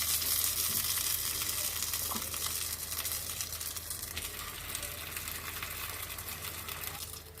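Chicken shawarma rolls sizzle on a greased grill, a loud continuous hiss of frying fat up close that eases slightly toward the end, with no talk.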